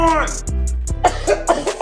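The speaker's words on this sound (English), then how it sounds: "Coughing your arm." A person gives a few short, close coughs mixed with throat clearing, with talking around them.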